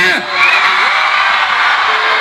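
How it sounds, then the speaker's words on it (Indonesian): Children and their mothers shout loudly together at an outdoor stage show in Labolong, Pinrang, a sustained, bright crowd yell of overlapping voices that holds steady, close and loud. "Anak disuruh teriak, ibunya bantu."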